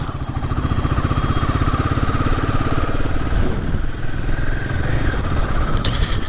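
A Royal Enfield Himalayan 450 motorcycle engine runs steadily close by, a loud, even, throbbing mechanical thrum with a slight clatter that holds at a constant pace from start to finish.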